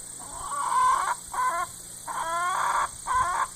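Leghorn and Easter egger hybrid hens clucking in a backyard flock, several bursts of rhythmic clucks and short calls close to the microphone over a steady background hum, with no talking.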